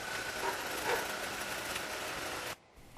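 Steady mid-pitched Suzuki Forenza engine hum running continuously, then cutting off abruptly near the end.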